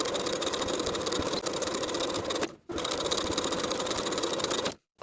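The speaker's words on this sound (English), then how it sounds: "Now I'm going to edge stitch on top of my finishing stitches all the way around to form a casing" A sewing machine runs at a fast, steady pace while edge stitching a casing on a sleep set, stopping briefly twice.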